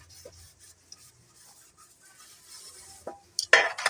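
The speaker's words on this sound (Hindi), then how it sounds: "फिलहाल साथ साथ हम लोग बर्तन भी धोते जा रहे हैं" Dishes, pots and pans being washed in a home kitchen, with soft scraping and rubbing at first, then a few sharper clinks and a loud clattering burst near the end.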